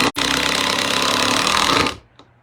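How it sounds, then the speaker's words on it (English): A drill drives a screw into wood with a loud, steady mechanical whir lasting about two seconds, then cutting off abruptly, followed by a faint click. "So I'm going to go ahead and drive this screw into this wood."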